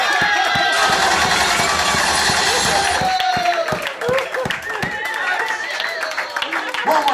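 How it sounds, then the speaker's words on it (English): An audience at a comedy roast claps and cheers, a dense burst of applause that fills the room and then thins into scattered claps and crowd noise, with a voice talking over it. "One more time, clap it up for your man"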